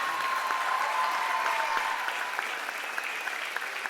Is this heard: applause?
yes